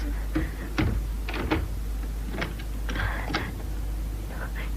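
Clacks and rattles of a front door being shut and locked in a radio drama scene, several sharp knocks and clicks spread over a few seconds against a steady low hum.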